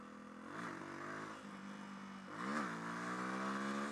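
A Suzuki DR200 motorcycle accelerates in second gear, its engine note climbing in pitch twice, close and moderately loud, with a quiet steady drone between the pulls.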